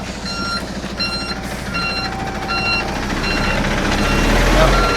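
A truck reversing toward a petrol pump sends out a steady run of evenly spaced beeps over loud engine rumble and road noise.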